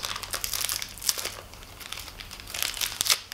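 A Mulebar energy bar's plastic wrapper crinkles close up as it is struggled open, with bursts of sharp crackling and a brief pause midway.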